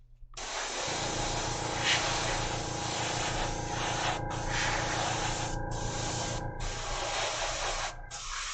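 An airbrush sprays primer onto a miniature figure in continuous hissing bursts, with a steady low compressor hum underneath and brief gaps where the spray stops, close and fairly loud.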